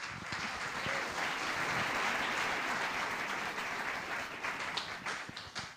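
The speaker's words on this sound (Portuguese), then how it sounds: "Então pode aplaudir porque é Deus falando." A church congregation breaks into sustained applause, a dense wash of many hands clapping at moderate distance that swells and then gradually thins out, with no talk over it.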